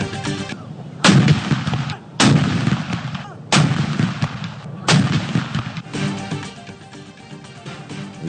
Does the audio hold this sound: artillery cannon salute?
yes